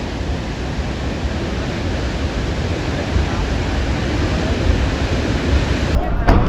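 Athirapilly waterfall roars in a loud, unbroken broadband rush, steady and close throughout with no breaks.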